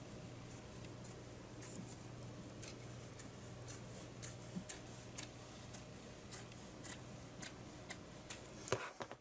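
Scissors snip repeatedly through craft material for a homemade decorative air freshener, a series of crisp close cuts that grow louder and quicker toward the end, over a faint steady hum.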